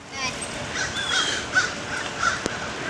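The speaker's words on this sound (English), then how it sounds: "The crows are mocking us." Crows cawing at a distance in an open small-town setting along a rural Iowa rail trail, a few short calls spread across the moment over steady outdoor background noise.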